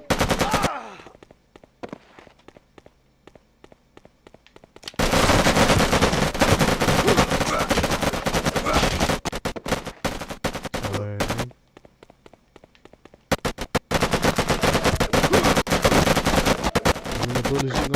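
Rapid bursts of automatic gunfire in a shooter video game, loud and dense, broken by brief quiet gaps between heavy volleys, with a voice talking in places.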